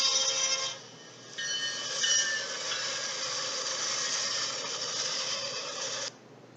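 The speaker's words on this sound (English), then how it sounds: "Here it comes on that short intermodal train." A short Union Pacific intermodal freight train rolls by westbound, making a steady rumbling roar with high metallic wheel squeals and ringing tones that fade in and cut off, with no talking.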